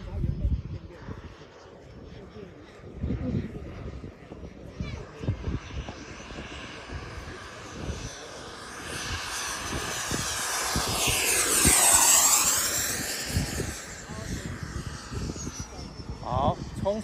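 An XFLY 80mm T7A radio-controlled electric ducted-fan jet at half throttle whooshes past, its whine building to a loud close pass around the middle before fading, while someone talks and wind rumbles beneath.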